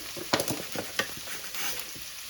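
Turmeric and salt fry in hot oil in a pan, giving a steady close sizzle broken by a few sharp scraping strokes as a spoon stirs the mixture.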